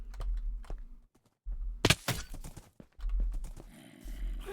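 Hooves of a zombie horse clop in Minecraft, a series of hollow thuds in uneven rhythm with a sharp crack and scattered game noises, fairly faint and close, with no talking.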